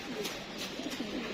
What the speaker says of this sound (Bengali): এই যে বসতেছে 4 কবুতর একসাথে নামলো